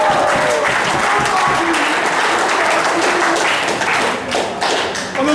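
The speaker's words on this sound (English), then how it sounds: "Make some noise for David Kinch." A rap battle crowd applauds and cheers loudly, dense continuous clapping with scattered shouts, close and filling the room for several seconds before easing slightly.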